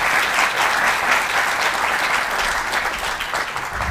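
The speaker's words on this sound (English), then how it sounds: "could everybody please give the crew here a round of applause before they return to their seats" Steady, dense applause from an audience, continuous clapping at an even loudness throughout.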